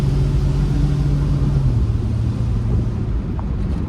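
A 1965 Dodge Dart convertible with a 225 Slant Six doing a burnout: a loud, near engine roar held at high revs, then dropping in pitch and settling into a rough rumble.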